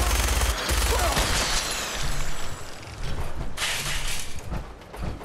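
Enemy gunfire in the Fallout 4 video game comes as loud, dense bursts of rapid shots. The volume dips briefly between volleys before the shooting resumes.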